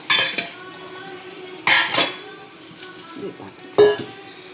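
Metal utensils clank and scrape against pots in several separate bursts while sambar is transferred into a metal pot, with someone talking nearby.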